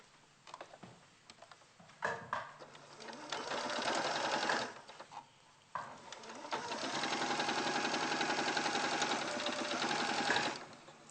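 A sewing machine stitches fabric in bursts, running for about two seconds, pausing, then whirring in a longer steady run of rapid ticking stitches, fairly close, with no talking over it.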